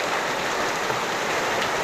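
Heavy rain roars in a dense, even wash of noise, loud and close, with no voices.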